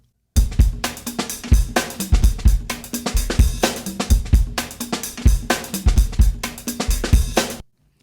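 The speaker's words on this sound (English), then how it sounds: "it was based largely on a drum loop that sounds like this" A punchy drum loop repeats steadily, with hard kick hits and crisp cymbal wash in a driving, even groove, loud and close.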